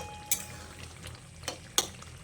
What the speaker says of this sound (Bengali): তারপর ঢাকাটা খুলে আরও একবার ভালো করে নেড়েচেড়ে নিচ্ছি।